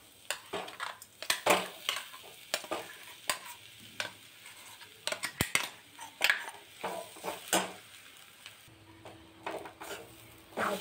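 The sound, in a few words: pigeon pea paste with cumin being sautéed in a pan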